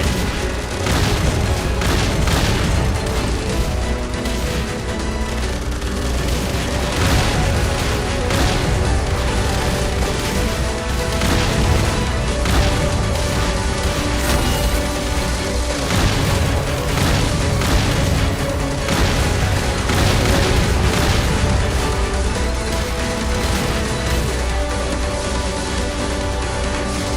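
Explosions tearing apart a research facility in the shoot-'em-up game Raiden V, a loud, continuous barrage of booms and crashing blasts layered with dense game noise throughout.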